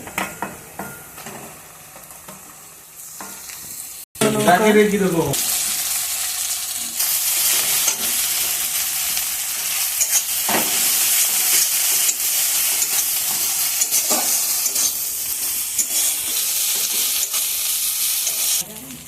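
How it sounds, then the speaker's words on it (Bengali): Crab paste sizzles loudly in a wok over onions already fried, a steady close hiss with occasional stirring scrapes, following a quieter stretch of low kitchen noise and a brief cut. "ওই কড়াইতে পেঁয়াজটা দিয়ে দিয়েছিলাম, হয়ে গেছে ভাজা। এবারে কি কাঁকড়ার বাটাটা দিয়ে দেবো ওইতে।"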